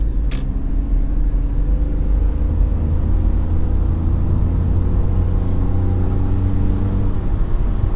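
Steady low engine drone of a 2006 BMW 330Ci E46 driven in sport mode, a continuous rumbling cabin hum with road noise and mild throttle variation.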